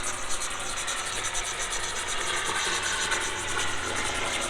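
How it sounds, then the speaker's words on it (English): A helicopter flies overhead in South Beach, Miami, droning steadily with a pulsing rotor chop, a constant loud whir that holds for several seconds without other sounds. "Every 5 minutes, it's a damn helicopter here in South Beach."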